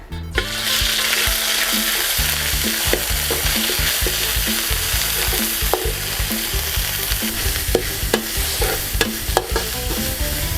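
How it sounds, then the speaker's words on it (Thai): Red jungle curry paste sizzling as it is stir-fried in oil in a pan, with a spatula clacking and scraping in an irregular rhythm over a continuous loud frying hiss, close up and without talk. "ต่อไปนะคะก็ใส่พริกแกงป่าลงไปนะคะ"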